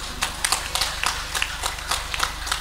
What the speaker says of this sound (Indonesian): tepuk tangan dong yang meriah untuk Mbak Herna.